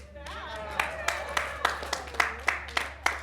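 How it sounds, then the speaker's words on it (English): Scattered hand claps ring out in a small room for a man standing to show off his jacket, a few sharp evenly spaced claps rising over a steady low hum rather than full applause. "First applause."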